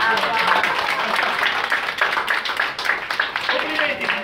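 Audience applause at an award ceremony for a photo contest, a dense steady patter of many hands clapping throughout, with voices mixed into it.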